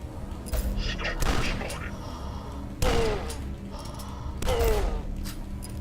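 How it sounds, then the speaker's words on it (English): Shotgun blasts in the retro first-person shooter Dusk, a few heavy booming shots spaced out over ongoing game noise, loud and close, with thuds and clanks between them. "You need to go shotgun his face to do any real damage."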